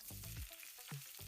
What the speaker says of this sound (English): Look at this slow sizzle, that's what you want.